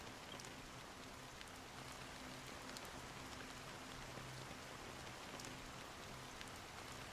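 Steady rain falls in the video game Honkai: Star Rail, a continuous soft hiss of drops on surfaces with a faint low hum beneath, even and unbroken throughout with no voices.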